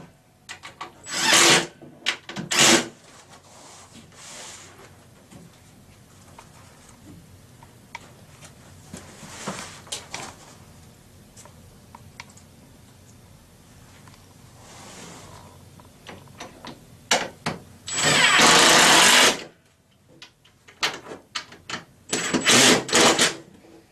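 Screws being driven into a Forevermark base cabinet during assembly, heard as several short bursts of a power driver whirring, separated by quieter pauses, with a longer, louder run near the end.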